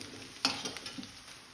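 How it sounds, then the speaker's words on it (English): Onions frying in a pan for colocasia curry, a soft sizzle with a few sharp scrapes and clinks of a spoon stirring, close and fairly quiet. "Meantime, stir the onions."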